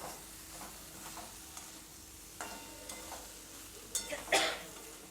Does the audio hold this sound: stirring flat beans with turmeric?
yes